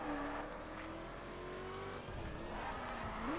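A car drives in the racing video game The Crew, its engine holding a steady, moderately loud drone that wavers and climbs as it accelerates, with road and tyre noise underneath and no talking.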